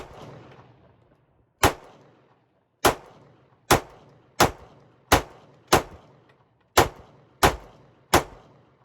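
A Glock 19 pattern pistol with an RMR cut firing eight sharp, loud shots at an outdoor range, the first alone and the rest in a quick, fairly even string, each with a short decaying echo.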